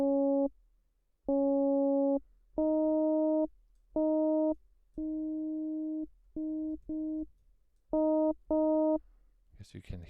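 A synth tone runs through Ableton's Auto Filter with an externally triggered envelope, giving a series of short and long steady tonal notes separated by silent gaps, clean and alone.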